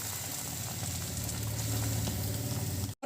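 Chicken bread rolls frying in hot oil, a steady dense sizzle and bubbling that holds loud and close for a few seconds before cutting off abruptly.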